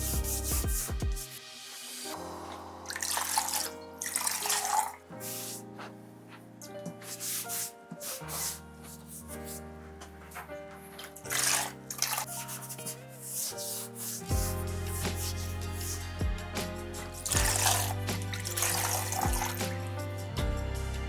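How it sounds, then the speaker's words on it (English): A wet pottery board is wiped down with water, giving repeated rubbing and sliding strokes with soft splashy water sounds in close, uneven bursts and no talking. "And then I need to wipe my board."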